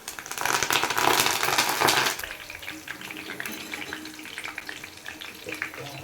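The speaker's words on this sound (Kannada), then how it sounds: "ಕರಿಬೇವು ಸೊಪ್ಪು ಹಾಕ್ಕೊತಾ ಇದ್ದೀನಿ." Curry leaves hit hot oil with crushed garlic and sizzle loudly for about two seconds, then settle into a softer, steady crackle of frying with light stirring.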